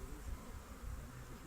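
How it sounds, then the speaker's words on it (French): Honeybees during queen rearing, thousands packed together, give a steady low hum that stays constant and close throughout the short stretch, with no voices over it. "Il y a combien d'abeilles? Des milliers."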